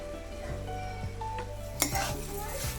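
A spoon stirring banana flower curry with ghee, black pepper and garam masala in a pot, giving soft scraping and clinking strokes over a gentle sizzle, fairly quiet and close.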